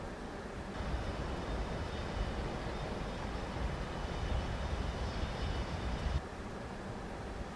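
Engines of a Virgin Atlantic Boeing 747-200 running after landing, a steady broadband roar with a faint high whine that swells after a moment, then drops noticeably near the end as if spooling down.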